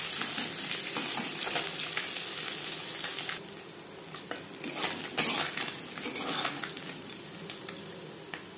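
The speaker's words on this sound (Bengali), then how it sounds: "একটা সাইড ভাজা হয়ে গেলে অপর সাইডটা উল্টে দেবো" Small puti fish frying in hot oil in a pan, a steady loud sizzle with crackling bursts and occasional clinks of a utensil against the pan, continuous throughout.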